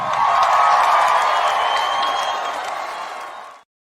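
Dense, sustained applause from a dinner-event audience, loud and steady at first, then thinning slightly before cutting off abruptly.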